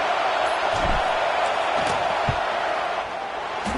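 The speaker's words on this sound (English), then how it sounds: "This crowd trying to do its part to get inside the kicker's head." Steady, loud roar of a college football stadium crowd at Vanderbilt versus Michigan as the home fans try to rattle the kicker before a field-goal attempt, a broad sustained din with occasional thumps and shouts.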